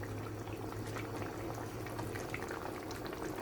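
Kerala-style sheri fish curry bubbles in a pot, a steady low simmering burble with soft popping bubbles, close and even throughout without talk.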